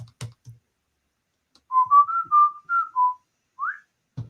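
A lone whistled melody of about seven sustained notes rises and falls, clear and close, bracketed by a few soft knocks at the start and end.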